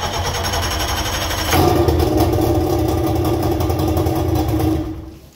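A 2000 Johnson 50 HP outboard motor starts with a sudden burst after a brief cranking whir, then runs loud and close at a steady, buzzing idle before cutting off.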